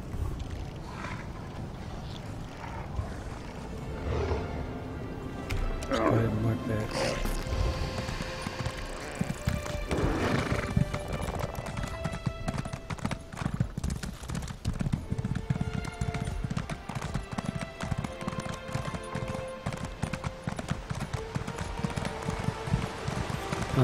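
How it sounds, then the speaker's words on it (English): A horse gallops in The Elder Scrolls Online, its hooves clip-clopping in a quick, even rhythm for the whole stretch, moderately loud against game ambience, with occasional voice in the mix. "It just feels like the horse moves a little bit faster, and it could just be the galloping sound that just gives that illusion"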